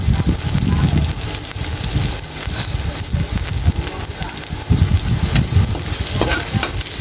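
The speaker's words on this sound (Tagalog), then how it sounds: "Umpisa na nating maggisa ng bawang." Garlic and then onion sautéing in a hot pan, a steady loud sizzle and frying hiss with repeated scraping stirs throughout, close and continuous.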